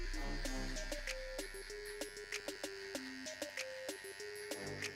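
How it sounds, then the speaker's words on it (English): A hair trimmer cuts a first guideline around the ear, giving a steady high electric buzz with short bursts as it touches the hair. Background music plays under it. "I'm gonna make my first guideline using my trimmer"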